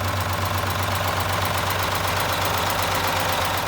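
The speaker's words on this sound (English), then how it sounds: "V6 Detroit diesel, 2-stroke." A V6 Detroit two-stroke diesel bus engine runs steadily, its loud, close, continuous drone carrying a low rumble and a gritty, rapid knocking rhythm throughout, with no talking.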